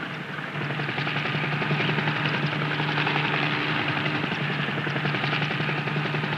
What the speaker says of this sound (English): The helicopter can set down very near to the Rhino